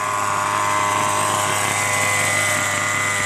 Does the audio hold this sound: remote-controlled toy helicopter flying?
yes